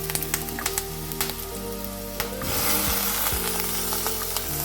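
Vallarai greens drop into onions frying in a pan, the steady sizzle swelling into a louder hiss as the leaves go in, with scattered crackles and pops close by and no talk.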